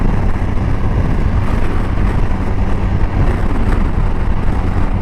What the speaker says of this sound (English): This nice smooth engine.